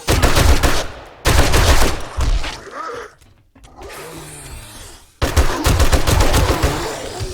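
An M60 machine gun firing in the survival game 7 Days to Die, close, loud sustained bursts broken by pauses, with softer rumbling in between before the firing resumes.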